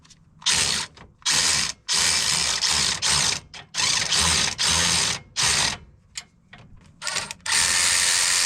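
A hand ratchet snugs down trailing arm bolts on a RZR, clicking in rapid bursts of loud close pawl chatter separated by short pauses as the handle swings back and forth.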